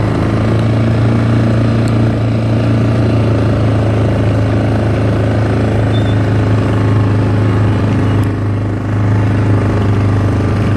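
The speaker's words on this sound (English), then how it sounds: "I'm on an entire quad bike" Quad bike engine while riding near Clarens, South Africa, a loud steady drone that holds at an even pitch for the whole stretch, with no speech.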